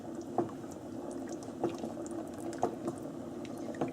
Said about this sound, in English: just gently stir it until it